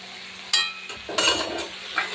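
A lid clatters onto a pan of onion greens frying with green chilies. A couple of sharp knocks and scrapes land over a steady sizzle, close and fairly loud.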